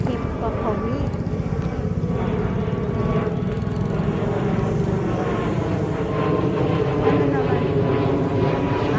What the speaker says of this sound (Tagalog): Ay, meron na namang aeroplano.